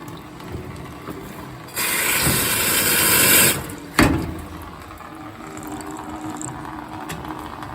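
An Astoria lever espresso machine dispenses a steady rush of hot water for a couple of seconds, ending with a sharp clunk, then a quiet hum continues.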